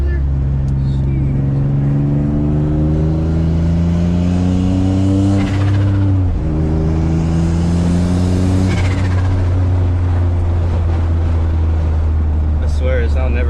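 A turbocharged Infiniti G35 engine revving up close, loud and continuous, with two rising-and-falling rev sweeps and a brief turbo whoosh between them.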